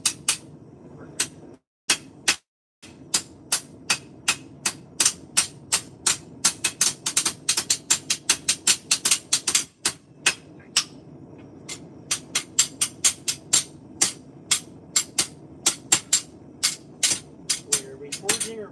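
A smith's hammer strikes hot metal while forging, dozens of sharp ringing blows in a quick, drum-like rhythm with brief pauses and a few faint voices underneath.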